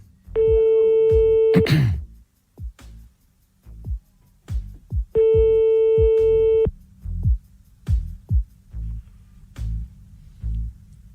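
Telephone busy signal on a call-back, two long steady tone bursts separated by a run of short low thumps and clicks on the line, loud and close, with no talking.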